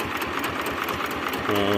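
Single-cylinder mini tractor engine, modified for quieter running, idling steadily with a rapid even chugging pulse, heard from several metres away, while someone speaks over it.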